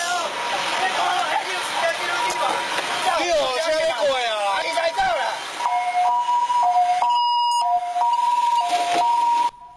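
Ambulance siren wailing loudly in a narrow lane during a standoff between a truck and a car, the rising-and-falling tone sweeping close by, then shifting to a steady two-tone pattern amid street noise.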